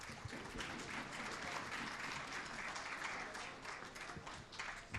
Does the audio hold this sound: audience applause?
yes